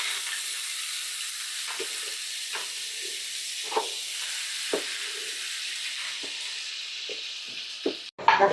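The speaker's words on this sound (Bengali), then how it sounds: "আমরা হালকা একটু করে পেঁয়াজ বাটাটা ভাজছি" Onion paste frying in hot oil with bay leaf, cinnamon and cardamom for a quail roast, a steady close sizzle with occasional stirring scrapes, ending in a brief louder clatter.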